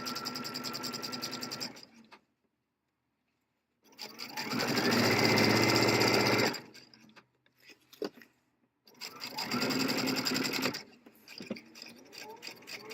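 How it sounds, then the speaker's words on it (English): A sewing machine stitches a 3/8 inch seam down the back of a garment with an invisible zipper, running in three steady bursts of rapid close whirring separated by quiet pauses. "I'm going to continue sewing down the length of the back with a 3/8 inch seam allowance."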